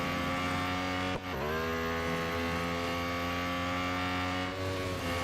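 Lotus Emira GT4 race car engine in the Real Racing 3 video game, a steady, sustained high-revving drone with a brief dip around a gear change, continuous and moderately quiet.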